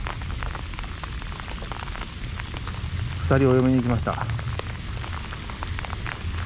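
Rain patters steadily during a seabass fishing outing with a Megabass big-bait rod, a dense wet hiss under a voice that talks through it.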